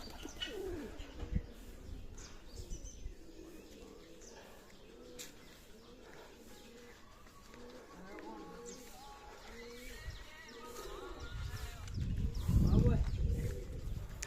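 Pigeons cooing close by, soft repeated low calls with some chirps over a busy outdoor background, with voices talking throughout.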